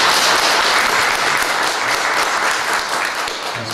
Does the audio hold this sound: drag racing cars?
no